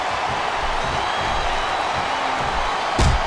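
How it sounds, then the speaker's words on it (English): Steady roar of a capacity wrestling arena crowd cheering, a dense continuous wash of voices with a brief louder burst near the end. "This capacity crowd is solidly behind their superstar."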